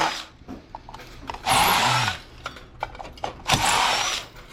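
A power tool backs screws out of scrap metal in two loud, close bursts of whirring, with short metallic clicks and rattles in the pauses.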